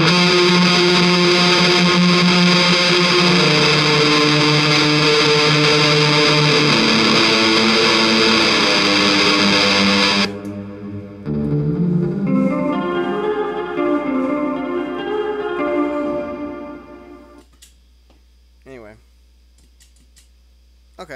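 Electric guitar played through a pedal board with a Hyperion effect and room reverb, dense distorted sustained chords for about ten seconds, then sparser reverberant notes ringing out and decaying into quiet near the end.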